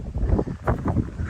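Strong wind buffets the microphone in rumbling low gusts that swell and ease over a second or so, with no voices, beside a church tower in Strängnäs, Sweden.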